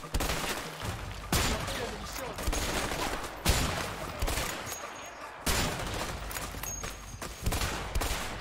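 Repeated sniper rifle gunfire in the video game A Way Out, several sharp loud shots spaced a second or two apart, each with a short decaying tail, over steady game ambience and occasional voices.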